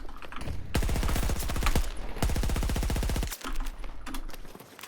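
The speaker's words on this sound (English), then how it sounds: "You meant the gun? MG4. MG4. That's some kind of space gun." Rapid sustained bursts from an MG4 machine gun in Battlefield 2042, loud and close, two long rattling strings of shots with a brief gap, followed by scattered clatter.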